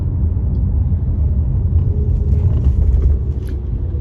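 Low, steady engine rumble from a car idling and creeping in stop-and-go traffic, heard from inside the vehicle as a loud, continuous deep drone for four seconds.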